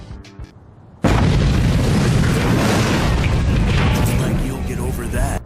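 Dusk Lobber plants in Plants vs. Zombies 2 fire off explosions: after a brief quiet stretch, a sudden loud boom leads into a continuous, dense roar of overlapping blasts that holds for several seconds.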